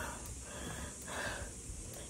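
Heavy, rapid panting of a person catching their breath after exertion, with a steady rush of breathy noise close to the microphone and no talk.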